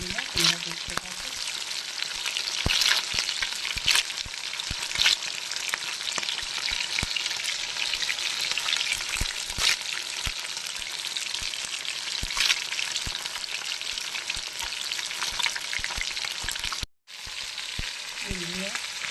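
Tangra fish frying in a pan, a steady dense crackling sizzle that runs close and continuous, broken by sharp pops and one brief drop near the end.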